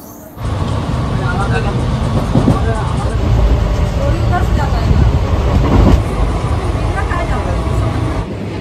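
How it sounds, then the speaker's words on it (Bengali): A Ma Tara Express train pulls out of Tarapith Road station, its loud rumble and rattle of rolling carriages filling the inside of the coach, with voices of passengers talking over the noise. "ছেড়ে দিল আমাদের ট্রেন তারাপীঠ রোড স্টেশন থেকে"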